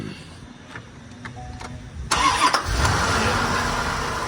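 A 1992 Chevrolet Corvette C4 convertible with LT1 V8 and six-speed cranks after a few faint clicks, then fires up and settles into a loud, steady idle with air pumps running, close by, no talking.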